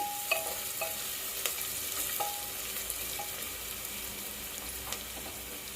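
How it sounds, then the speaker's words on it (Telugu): Sliced onions fry in hot oil toward golden brown, a steady, close sizzle broken by occasional clinks and scrapes of a stirring spoon, with no one speaking. "ఆనియన్స్ బాగా కొంచెం గోల్డెన్ బ్రౌన్ కలర్ వచ్చేదాకా ఫ్రై చేసుకోవాలి"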